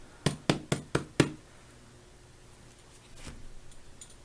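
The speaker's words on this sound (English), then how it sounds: "When I'm knocking on those cards, what I'm doing is cleansing the energies." Five quick, crisp knocks in an even rhythm on a deck of tarot cards, close by, followed by quiet with faint rustling.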